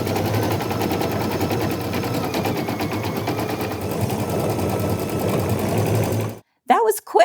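An embroidery machine stitches free-standing lace earrings in a rapid, even rattling pulse up close for several seconds, then stops abruptly, followed by a brief voice.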